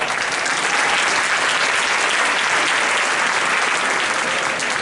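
Applause from the audience at an Eastern Michigan University multicultural graduation ceremony, a loud, thick and continuous wash of many hands clapping at once, unbroken across the whole span.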